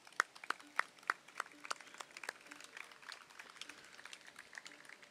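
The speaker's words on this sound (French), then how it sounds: "Ils méritent une grosse, grosse main d'applaudissements." Audience applause at an outdoor concert at Parc Régional des Chutes Monte-à-Peine-et-des-Dalles is faint and sparse, made up of scattered individual claps over a few seconds that sound fairly distant.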